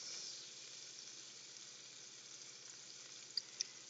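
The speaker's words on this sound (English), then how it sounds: "put it in my pan and let it go ahead and melt. I'm going to add my onions." White onions fry in a pan of melted fat, giving a steady, close sizzling hiss with a couple of small pops near the end and no voices.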